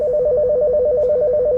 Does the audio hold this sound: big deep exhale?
no